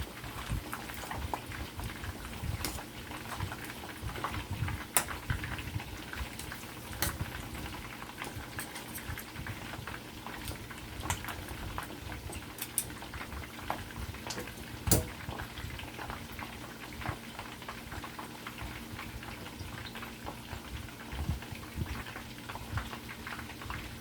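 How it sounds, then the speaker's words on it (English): Steady crackling sizzle of chicken feet frying in hot oil, with dense popping and spattering throughout, a low hum underneath. "I'm gonna finish frying these"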